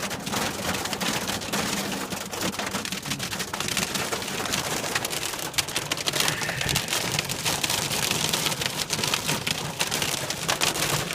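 Hail pelts down steadily in a dense, continuous patter of countless small impacts, loud and close, with no break over the full stretch.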